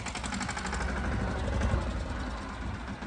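A tractor engine runs close by with a steady, rough, knocking rumble. The chugging is loud and even and holds at one level through the whole stretch, with no speech.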